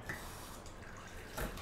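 Cold tap water runs steadily into a container for blooming yeast, a continuous close splashing flow with a brief louder gush near the end.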